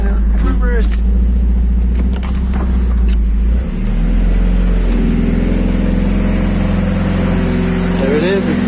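The engine of a Mitsubishi Eclipse 2G runs loud and close at a steady idle with the transmission in reverse. The drone holds throughout, and the pitch shifts briefly partway through.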